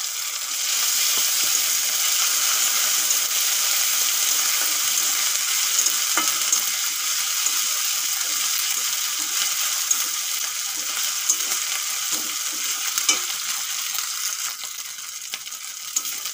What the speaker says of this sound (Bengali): এখন পেঁয়াজকুচিগুলো ভেজে নেব ভালো করে।